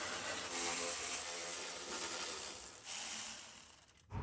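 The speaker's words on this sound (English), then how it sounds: "Those bolts are a 12-millimeter, and I'm gonna zip them out with my Milwaukee ratchet." A Milwaukee electric ratchet zips out 12 mm radiator bolts on a 3rd-gen Toyota 4Runner, giving a steady, close, loud whirring buzz that runs for several seconds and briefly surges before cutting off.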